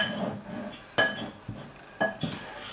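Icing sugar being worked into butter in a bowl for cupcake icing: a utensil knocks and scrapes against the bowl in a few distinct clinks about half a second apart over a soft scraping background, close and without talking.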